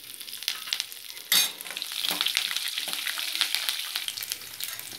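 Curry leaves and garlic sizzle hard in hot tempering oil, opening with a loud burst of spatter as the leaves drop in, then a steady close crackle with scattered pops throughout.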